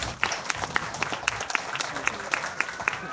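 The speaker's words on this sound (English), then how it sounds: "let's give Lainey a big round of applause." Audience clapping at a county fair beef cattle show, a steady patter of many hands with scattered sharper claps, continuous and moderately close, filling an indoor or arena-like space.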